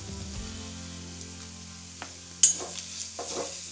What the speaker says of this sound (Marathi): त्यामध्ये ही वाटलेली डाळ टाकून घेऊ आणि ह्याला थोडंसं परतू